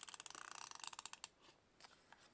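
A small tape runner clicks and ratchets in a quick, faint series of ticks while dispensing adhesive tape onto handmade desktop calendar pages, then gives a few scattered clicks.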